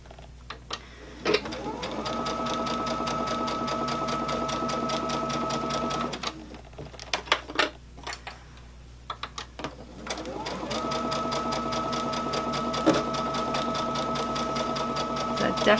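A sewing machine stitches in two long continuous runs, its rapid mechanical whir steady and close, separated by a pause filled with clicks and handling noises, with a voice speaking at times.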